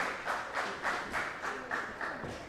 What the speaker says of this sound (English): the crowd again coming alive behind both competitors here